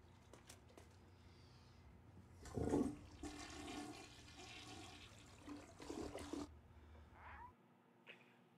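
A toilet flushes in a TV drama scene, a quiet gush of rushing water that swells briefly, then trails off into a softer running and refilling sound.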